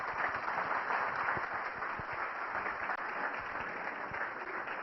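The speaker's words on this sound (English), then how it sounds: "this is your chance to applaud for the candidates" An audience applauds the candidates at a Lapeer County Tea Party forum for a special election primary, with steady, dense clapping from a crowd filling the room throughout.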